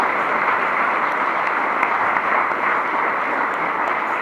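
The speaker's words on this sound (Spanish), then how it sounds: "Dale un fuerte aplauso al Señor, hermano" Church congregation applauding at a Spanish-language worship service, a steady dense wash of many hands clapping at once, loud and continuous throughout with no voices rising above it.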